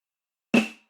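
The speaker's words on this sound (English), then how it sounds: "So you could hear that whistle sound." A single MIDI snare hit from a drum mix, with its ringing whistle tone near 2.65 kHz boosted by EQ so a sustained high ring hangs over the sharp crack and short decay.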